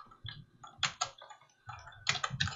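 A computer keyboard is struck as the Alt and Delete keys are pressed, producing a few close, crisp key clicks in small clusters separated by short gaps.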